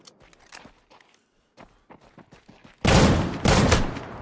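Loud gunfire erupts in the video game Deadside, with two heavy bursts of shots that follow a stretch of quieter footsteps and faint scattered clicks.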